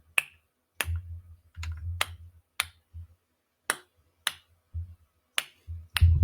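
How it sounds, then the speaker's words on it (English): Constant high-pitched clicking of echolocation reverberating in a room: a dozen or so sharp, isolated clicks at uneven intervals, with soft low thumps between some of them. "like a constant like clicking, like high pitched clicking noise that's constantly reverberating in the room"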